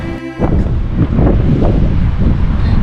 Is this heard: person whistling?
no